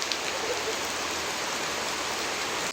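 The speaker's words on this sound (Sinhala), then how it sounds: "ඉතින් එකපාරට වහින්න ගත්තා බලන්නකෝ" Sudden heavy rain pours down outdoors in a dense, steady hiss that stays loud and even the whole time, with no voices.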